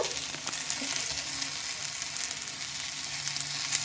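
Onions fry in a pan with a continuous crackling sizzle, close and fairly loud, and occasional soft stirring scrapes.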